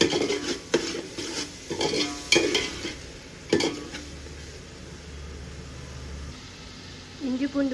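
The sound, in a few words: sautéing biryani ingredients in a pot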